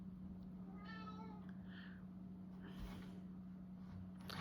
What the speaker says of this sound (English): my cat's at the door